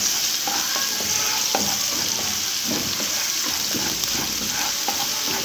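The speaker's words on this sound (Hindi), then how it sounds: "इसको थोड़ा फ्राई करेंगे।" A resha kebab mixture sizzles steadily as it fries in a pan, with a spoon scraping and stirring through it at irregular moments and no voices over it.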